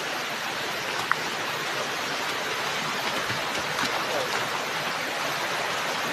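A natural stream on ancestral farmland flows in a steady, dense rushing wash of water that stays even and continuous throughout, close by, with no voices over it.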